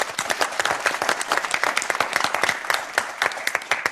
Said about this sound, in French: Les applaudissements qui s'adressent également à Geneviève et Emmanuel, parce que vous avez super bien joué